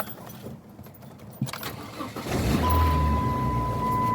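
Keys jangle, then a car engine fitted with new spark plugs cranks and catches about halfway through. It settles into a steady, smooth idle close by, with no talking.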